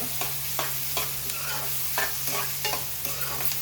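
Ingredients frying in a pan before cucumber goes in for a dry fish and cucumber curry, a dense continuous sizzle with repeated stirring scrapes, close and steady, no voices.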